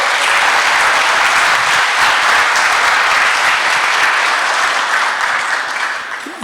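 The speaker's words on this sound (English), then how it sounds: "Let's give them all a big round of applause." Audience applause at a Norwegian TV technology conference hosted by Norigin Media, a dense, steady wash of many hands clapping loudly throughout, tapering slightly at the very end.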